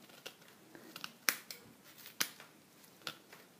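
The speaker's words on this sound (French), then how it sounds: "avec un petit ciseau, on coupe les tiges de cette manière-là" Small scissors snip oregano stems, making a few sharp, crisp clicks spaced about a second apart with faint rustling between them, close up and quiet.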